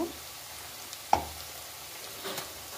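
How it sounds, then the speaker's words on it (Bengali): Onions frying in a pan while a meal is cooked, giving a faint, steady sizzle with a single sharp clink of utensil against pan partway through and a soft stir near the end. "পেঁয়াজটাকে ভালো করে ভাজতে হবে"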